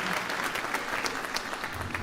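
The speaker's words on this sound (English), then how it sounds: "One more round for our percussion section." An audience at an 8th grade band and jazz concert gives the percussion section a warm round of applause, with even, sustained clapping from a full crowd throughout.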